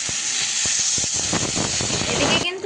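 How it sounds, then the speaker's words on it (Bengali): Water poured into potatoes cooking in a pan on a gas stove sets off a loud, steady steaming sizzle and hiss that runs throughout, with scattered crackles and pops. "এখন একটু কষানোর জন্য সামান্য পরিমাণ জল দিয়ে দেবো"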